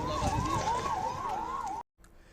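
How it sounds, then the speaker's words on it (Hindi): A mock drill siren wails in a steady rising-and-falling sweep, loud and close, then cuts off abruptly. "यहाँ मॉक ड्रिल का सायरन बजते ही मौके पर एम्बुलेंस पहुंच गई"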